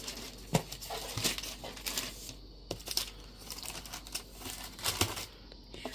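Plastic wrapping crinkles and tears as new Matt Notebook planners for 2025 are unwrapped at close range, with irregular bursts of crackling and a few sharp rips over a quiet room.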